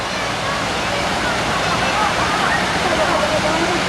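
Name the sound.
rapids water ride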